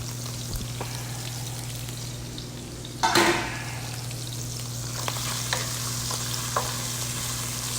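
Crushed garlic sizzles in unsalted butter in a pan, a close, steady crackle over a low constant hum, with a sharp burst of louder spitting as the garlic goes in and light stirring taps after.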